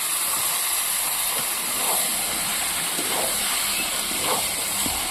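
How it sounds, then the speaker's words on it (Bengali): Marinated chicken frying in spice paste for an Assam-style chicken kosha with papaya, giving a steady broad sizzling hiss throughout, loud and unbroken with faint crackles on top. "এবার এখানে মেখে রাখা মাংসটা দিয়ে ভালো করে মশলাটার সঙ্গে কষিয়ে নেব মাংস"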